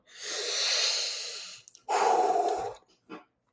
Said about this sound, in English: you can just fucking take a breath whenever you want